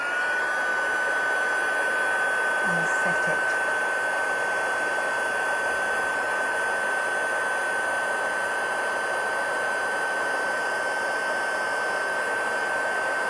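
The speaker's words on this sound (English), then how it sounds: "So I'm just going to grab my heat tool" Steady, loud whooshing of a heat embossing tool blowing hot air onto embossing powder, with a thin high whine, running continuously; a brief voice is heard early on.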